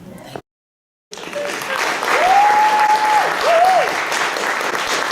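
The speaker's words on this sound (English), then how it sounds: "Mama Phyllis Lee another round of applause." An audience at an open-mic poetry show in San Antonio bursts into loud applause after a poem, with cheers and whoops over the clapping following a brief silence.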